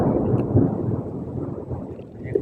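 Low rolling thunder rumbles steadily throughout during a storm, a broad dense roar with a few soft swells and no voices.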